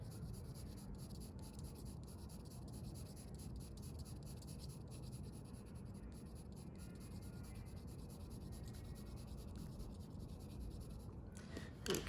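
A pencil shading across paper with medium pressure, giving a soft, continuous scratchy rasp that stays steady and quiet throughout.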